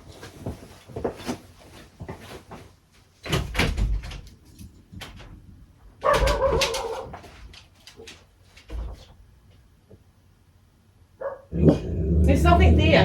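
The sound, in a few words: dog barking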